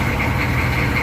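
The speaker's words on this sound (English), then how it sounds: "you can hear it's a typical diesel" A Humvee diesel engine idles steadily with a constant low rumble and faint knocking texture, close by and loud, with no voices over it.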